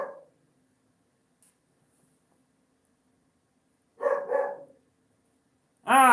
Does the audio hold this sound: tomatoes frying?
no